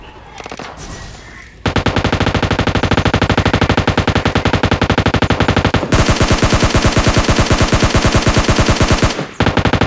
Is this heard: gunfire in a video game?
yes